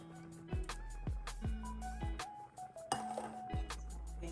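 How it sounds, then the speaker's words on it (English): A spoon stirs vegetables and Rotel into a simmering heavy cream and butter sauce for shrimp Alfredo, giving a steady series of bright metallic clinks against the pan, about one every half second, close and moderately loud. "And just stir everything up."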